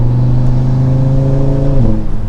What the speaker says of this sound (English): you get a little bit of the lighter steering just there when I was first accelerating